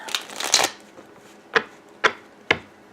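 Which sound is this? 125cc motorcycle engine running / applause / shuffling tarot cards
shuffling tarot cards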